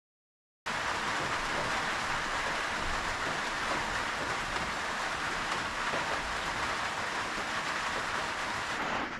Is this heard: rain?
yes